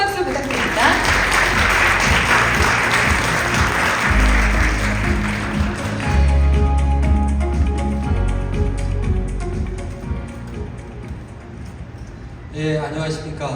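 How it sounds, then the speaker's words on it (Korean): Steady applause from an audience at a Hyundai Motor Group tech event fills the room, sustained and fairly loud throughout, with music playing underneath and a brief lull near the end. "큰 박수 부탁드립니다."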